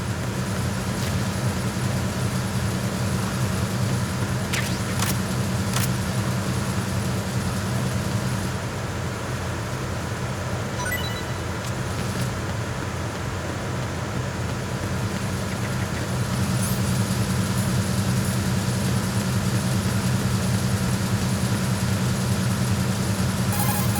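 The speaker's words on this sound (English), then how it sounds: "The engine noise is pretty loud" A continuous low mechanical drone fills a ship's engine room aboard the tanker in Metal Gear Solid 2, steady throughout with a slight dip in the middle and a few faint clicks over it.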